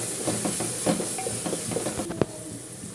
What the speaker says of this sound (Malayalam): ഇതിൻ്റെയൊക്കെ പച്ചമണം മാറുന്നവരെ വഴറ്റി കൊടുക്കാം കേട്ടോ